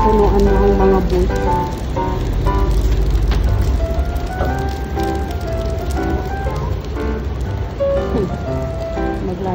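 Rain falls steadily on a busy city street as buses and other traffic pass, forming a dense, continuous wash of noise with engine hum and scattered tonal sounds.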